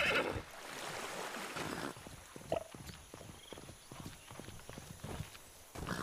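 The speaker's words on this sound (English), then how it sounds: "I do not understand how my horse is walking on water." Rhythmic hoof clip-clops from a horse walking in the Minecraft Legends video game, moving steadily over a soft watery ambience with occasional splashing and a brief bright tone.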